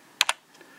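Computer keyboard being typed on, two quick close clicks followed by a faint third tap, in a quiet room.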